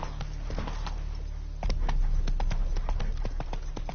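Roach the horse gallops in The Witcher 3, hooves clopping in a quick, steady rhythm that grows louder and denser midway, close and prominent with little else over it.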